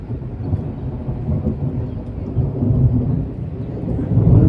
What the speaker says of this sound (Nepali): आकाश पनि कराउँदैछ, पानी पर्नुले रेडी रेडी छ है अब